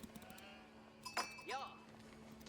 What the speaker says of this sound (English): More sheep here.